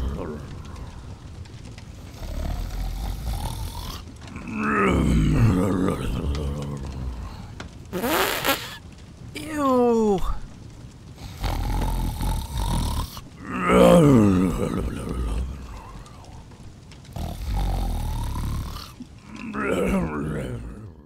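A voice imitates loud, drawn-out snoring in a storytelling reading, with several rasping, growling breaths in a slow rhythm across the stretch, close and prominent.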